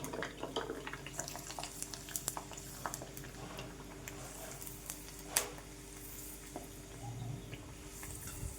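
Sabudana papad fries in hot oil, a faint continuous crackling sizzle with scattered small pops and one louder click midway, heard close but quiet throughout.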